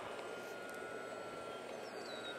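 Steady buzzing drone of a model airplane engine in flight during a stability test, constant and fairly distant with a high whine, no talk heard.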